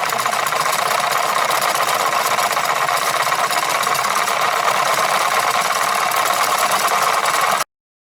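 A 100 mm ring magnet spun by two staggered sets of three-phase coils at 15 hertz gives a loud, steady buzzing hum that holds constant and then cuts off abruptly near the end.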